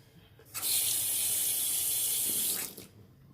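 A tap runs steadily for about two seconds while a face is rinsed after shaving, a close, bright rush of water into a sink that starts abruptly and then cuts off, with no talking.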